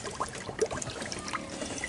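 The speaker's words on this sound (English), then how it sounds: "Drain this water out of here." Water drains out of a pop-up camper's water line in an irregular, splashy trickle with small gurgles and drips, close by and fairly quiet, with no talking.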